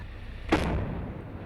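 A single deep blast from explosives demolishing a bridge in Pensacola, a sudden broadband boom followed by a low rumbling tail that fades over about a second, heard at a distance.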